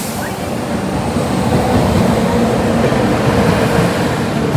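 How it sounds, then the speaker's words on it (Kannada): Tuticorin–Mysore Express train rolling into a platform at Mandya railway station, a continuous low rumble and rattle of wheels and carriages that builds slightly and holds steady, heard from nearby on the station. "ಪ್ಲಾಟ್ಫಾರ್ಮ್ ನಂಬರ್ 2ಗೆ ಈಗ ಎಂಟ್ರ್ ಆಗಿದೆ ತೂತಿಕುಡಿ ಮೈಸೂರು ಎಕ್ಸ್ಪ್ರೆಸ್."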